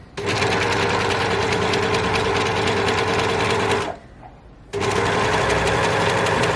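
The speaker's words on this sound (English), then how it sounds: "I've just left it on a standard 3-thread overlock with the right handing, so a narrow overlock, and I'm going to go down each side" A narrow 3-thread overlocker with the right needle stitches down each side of bunting fabric, a loud, steady, rapid mechanical whir that runs continuously, stops briefly for about a second, then starts again at full speed.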